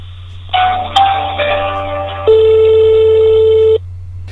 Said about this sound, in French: au bout de quelques sonneries